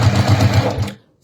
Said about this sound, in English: and then just stitch down here